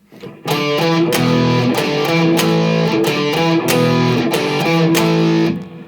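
Heavily distorted electric guitar playing a repeated chugging power-chord riff, loud and close, stopping abruptly at the end.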